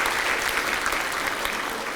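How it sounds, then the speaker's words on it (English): An audience at a book talk on feminism breaks into dense, sustained applause, a steady wash of clapping filling the room with no pause. "You don't need to clap for everything"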